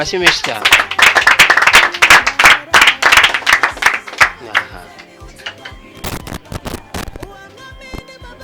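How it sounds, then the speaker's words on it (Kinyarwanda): A crowd claps enthusiastically at a welcome gathering for a DJ arriving in Nairobi. Dense, loud applause fills the first five seconds, then thins into scattered claps, with voices talking underneath. "Amashyi menshi cyane."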